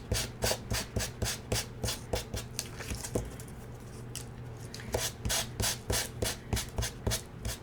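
Hand-sanding a paper scrapbook layer, quick repeated rasping back-and-forth strokes, close and fairly quiet, pausing briefly in the middle before the strokes resume.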